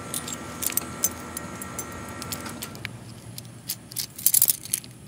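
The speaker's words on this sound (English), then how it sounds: "So I'm gonna unlock it from the porch with my handy dandy key." A key on a jangling keyring works the lock securing a lawn mower under a porch, with scattered metallic clinks and rattles growing busier near the end.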